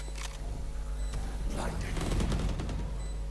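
Gunshots in the video game Valorant, a few sharp cracks and bursts of firing among game effects and a steady hum, with a voice briefly talking through the middle.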